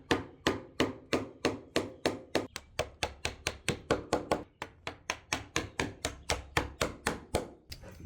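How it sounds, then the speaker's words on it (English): A chisel is struck repeatedly with a mallet while cutting out the corners of a wooden bar top inlay for a cigar. The blows fall as sharp, evenly spaced wooden knocks, about four per second, close and steady throughout. "When you're chiseling out these little corners, you want to hold it back from the line a little bit"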